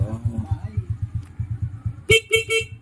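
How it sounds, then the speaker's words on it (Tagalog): A Honda Wave motorcycle horn, after a year of neglect with misfiring and oil leaks, gives three short loud toots near the end, over the steady putter of the idling engine. "busina okay"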